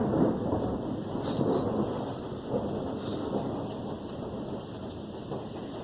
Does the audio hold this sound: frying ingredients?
no